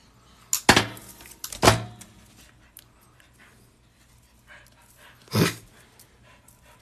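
A pet dog sits nearby during a jelly cube build, giving a few loud, sharp barks or huffs spaced apart, separated by quiet stretches with soft panting.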